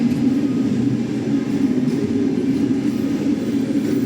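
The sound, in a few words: train departing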